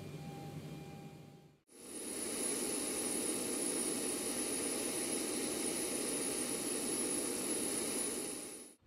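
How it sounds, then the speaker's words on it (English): An auxiliary power unit starts up on a simulated Boeing 737 in a flight simulator. A faint hum cuts off, then a steady turbine roar with a high-pitched whine spins up and holds at a constant level. "Now note that starting the APU takes around 2 or 3 minutes"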